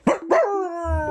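A person imitates a dog, letting out two quick close barks followed by a drawn-out howling tone, loud and alone.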